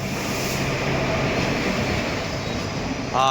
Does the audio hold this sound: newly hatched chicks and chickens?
no